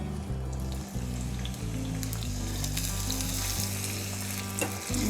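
Onions sizzle and crackle steadily in hot oil for Kalyana dhalcha, a continuous close frying hiss with occasional stirring scrapes; low tonal hum runs beneath.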